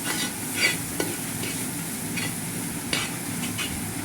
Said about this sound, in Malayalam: ഈ ചട്ടി നല്ല ചൂടായിട്ടിരിക്കുന്നതിൻ്റെ പേരിൽ നമ്മൾ വേഗം തന്നെ ഇളക്കി കൊടുക്കണം